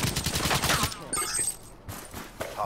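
Gunfire in Call of Duty Black Ops 3, a close, dense burst of rapid shots in the first second, followed by sparser scattered shots and game sound effects.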